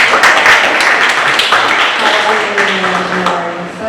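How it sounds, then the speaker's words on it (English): An audience applauds a speaker at a small-business entrepreneurship talk, clapping loud and close at first and thinning out toward the end, with faint talk and a sustained tone appearing near the finish. "Let's welcome her with a big round of applause."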